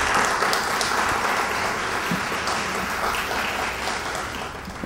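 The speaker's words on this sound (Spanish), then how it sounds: "voy a pedir que saludemos con un fuerte aplauso al profesor Juan José Tancantiné" Audience at a Miraflores municipal talk on Peru at the World Cup gives a strong round of applause for a professor, a steady, full wash of clapping from many hands throughout with no talk.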